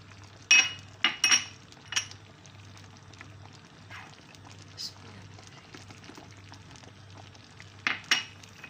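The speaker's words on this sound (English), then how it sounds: "Now I am mixing in onion." Onion being mixed into lotus stems in a thickened sauce, heard as a few sharp spoon clinks and scrapes against a dish, clustered at the start and end, over a quiet background.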